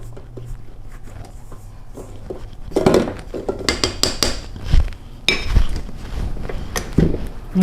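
A rubber spatula scrapes down the sides of a food processor bowl while making lemon bar dough, giving a run of close scraping and knocking taps against the plastic bowl after a low motor hum dies away.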